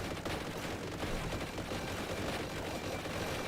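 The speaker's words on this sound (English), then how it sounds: "Evolved Boltgun lays down constant barrage of suppressing fire" Sustained heavy automatic gunfire from an Evolved Boltgun laying down suppressing fire in the video game Boltgun 2, a dense unbroken roar of rapid shots that stays loud throughout.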